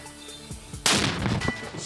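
A single loud gunshot or mortar blast booms suddenly after a quieter stretch, followed by a brief ringing rumble.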